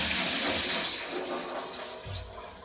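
Chopped vegetables are rinsed in water in a home kitchen, a continuous splashing, running-water wash close by with a heavier slosh near the end.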